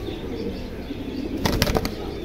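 A pigeon held in the hand struggles and beats its wings in a short burst of several rapid flaps near the end, close and loud over a low background hum.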